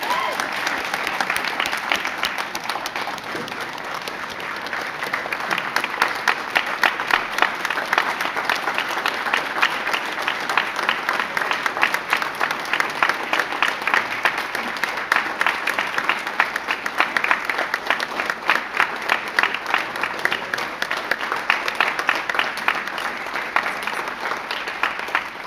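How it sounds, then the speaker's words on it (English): Sustained audience applause at the Gaisce Gold Awards ceremony with the President of Ireland, a dense, steady clapping from a large crowd that holds at an even level throughout. "will you please keep the round of applause going for the departure of the President and Sabina Higgins"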